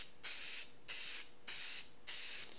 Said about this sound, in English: Give the blocks a good healthy dose of spray adhesive.